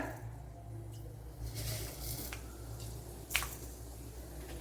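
Mustard seeds land in hot coconut oil in a pan and set off a soft sizzle with scattered small pops and crackles, and one sharper spit stands out near the end.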